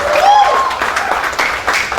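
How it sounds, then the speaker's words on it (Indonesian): Church congregation clapping to welcome a speaker to the stage, a short burst of lively applause with a faint whistle or cheer at the start, fairly close and loud. "Kasih tepuk tangan."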